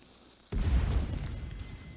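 A flashbang goes off in the video game SANABI with a sudden loud burst, followed by a sustained roaring rumble and a high ringing tone that lingers afterward.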